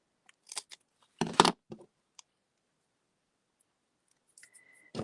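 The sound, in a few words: trimming paper with scissors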